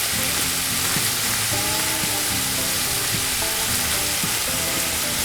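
Meat seasoned with Cajun seasoning browning in a Dutch oven over an outdoor fire, a loud, dense, continuous sizzle close by, with faint tonal squeaks and some stirring underneath.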